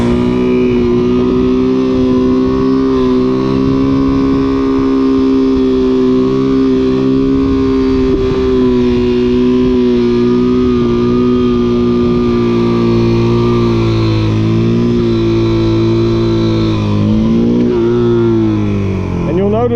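A motorcycle engine holds a loud, steady drone throughout a wheelie on a steeply cambered road, its pitch shifting slightly late on as the rider adjusts the throttle.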